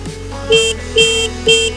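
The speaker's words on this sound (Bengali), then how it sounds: "এই সুইচটাতে আমরা যখন ক্লিক করব তখনই আমাদের এই সামনের হর্নটা বেজে উঠবে।" A motorbike horn fitted to a bicycle and worked by a switch gives three short, loud, close honks in even succession, with brief gaps between them.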